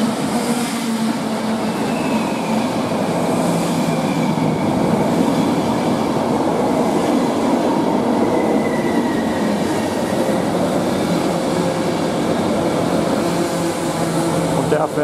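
An Austrian class 1116 electric locomotive pulls a freight train away at Kufstein, giving a loud, steady rumble of wheels and traction hum with faint squeal, continuous and close throughout.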